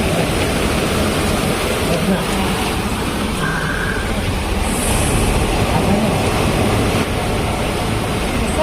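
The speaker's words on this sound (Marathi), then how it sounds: "जोर जोर से बारिश हो" Heavy rain pours steadily during a downpour in Mumbai, a dense, continuous roar close by with passing vehicles and occasional voices beneath it.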